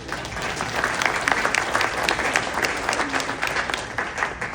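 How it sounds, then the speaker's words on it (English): Wedding guests applaud during a best man speech, a steady medium-loud wash of many hands clapping throughout, without distinct talk over it. "So please clap it up on that."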